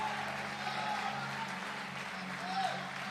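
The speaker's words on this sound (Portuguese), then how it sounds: "Mais só, aplaudindo, aplauda a glória." A church congregation claps together during a worship service, a steady wash of applause with voices mixed in throughout.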